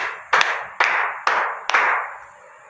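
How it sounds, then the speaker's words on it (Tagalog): A classroom of students claps in unison for a classmate, four sharp, evenly spaced group claps ringing out close and loud, each followed by a short decaying room echo. "Bigyan nga natin si Lila ng 5 palakpak."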